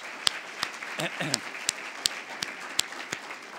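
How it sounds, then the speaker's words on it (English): Faint, sparse clapping from a small group at a college president's State of the College address, a few distinct claps spaced out with murmuring voices underneath. "let's give these folks a round of applause"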